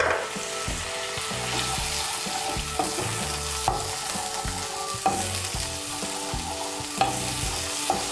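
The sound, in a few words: spice paste of turmeric, chilli and cumin frying in a pan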